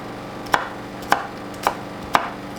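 A knife chops through an onion on a cutting board, working to the end and cutting out the core, four crisp, evenly spaced cuts about half a second apart, close and distinct with no talking.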